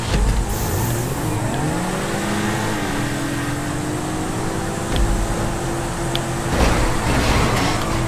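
Sports car engines roar and rev through a Grand Theft Auto Online street race, with rising gear-shift tones, steady loud engine drone and brief tire noise, almost no talk.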